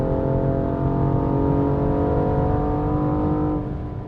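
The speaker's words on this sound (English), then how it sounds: "The turbo inline-6 just sounds awesome" A 2014 BMW M235i coupe's turbo inline-six engine roars steadily under hard acceleration, its deep layered drone holding strong and close before easing slightly near the end.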